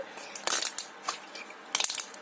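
Toy slime being squeezed gives a few quiet, separate crunchy clicks and crackles in short bursts, the densest cluster coming near the end, with no talking over them.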